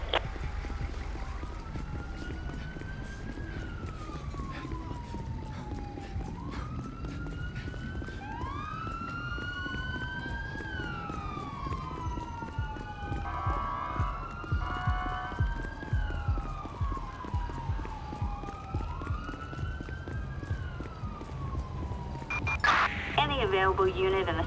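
A wailing siren in Grand Theft Auto V sweeps up and down repeatedly over a steady rumble, with overlapping siren tones and a burst of police radio chatter near the end.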